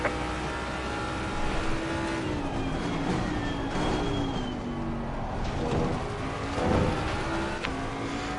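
A race car in a racing video game roars past on the Zolder circuit, engine revving and shifting pitch as it approaches and pulls away, loud and continuous with no talk.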